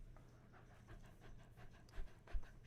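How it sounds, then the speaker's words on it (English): A dog pants in quick, steady breaths, faint and low, under a faint rail-like rumble with a couple of louder thumps near the end. "I hope you guys can hear the dog panting."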